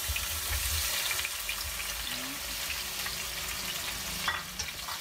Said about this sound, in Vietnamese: Bây giờ tôi sẽ bỏ cà chua vô.